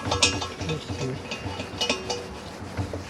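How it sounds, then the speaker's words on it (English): A caravan gas bottle valve is pushed in and turned, giving close mechanical clicks and ratcheting clatter in a short run of small metallic sounds, with a voice talking over it. "you push it in and turn it to the left"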